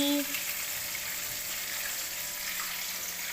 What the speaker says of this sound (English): After coating the chicken in flour, we have to fry this in oil.